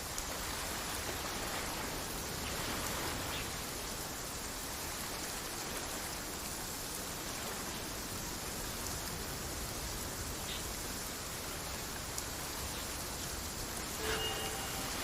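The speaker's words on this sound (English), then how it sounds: "Let us find shelter from the rain." Steady rain falls in a video game setting, a dense, even hiss of drops on surfaces that runs unbroken throughout with no voices.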